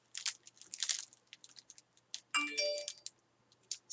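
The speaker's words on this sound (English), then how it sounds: "Sorry about my phone. Forgot to put it on vibrate." A mobile phone rings during leather journal binding. A short bright ringtone chime cuts in after scattered soft crackling and rustling handling noises.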